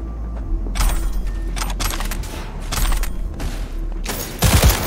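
Bursts of gunfire during a nomad side quest in Cyberpunk 2077, several rapid volleys in quick rhythm and a heavier thump near the end, loud and close with no talking.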